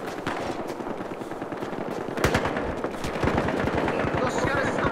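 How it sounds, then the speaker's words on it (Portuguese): Rapid automatic gunfire and sniper shots in the online shooter game Battlefield Hardline, dense bursts of close rattling fire with sharper cracks layered over it, and players talking beneath the shooting. "Os caras tão me dando tiro de sniper"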